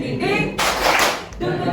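A classroom of students performs a rhythmic 'tepuk semangat' clapping chant, a loud, close burst of clapping lasting under a second between stretches of a teacher's voice.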